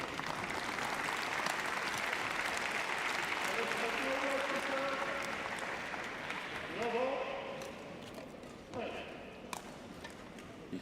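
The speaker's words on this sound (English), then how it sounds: "You can hear applause as well." Scattered applause at a Paralympic badminton venue during the Tokyo 2020 Games sits in the background, fairly distant, beneath steady commentary, with a few sharper sounds near the end.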